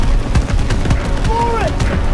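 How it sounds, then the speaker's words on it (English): Enemy gunfire in Call of Duty: WWII, set in Falaise, France, 1944, comes as dense, steady battle noise with repeated booming bursts, heard under shouting voices and continuous action sounds. "He's firing at us!"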